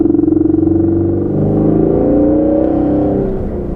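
Ford Mustang GT350 engine pulling hard at wide open throttle, a loud, steady droning roar with rising harmonics that holds full power for several seconds with no talk.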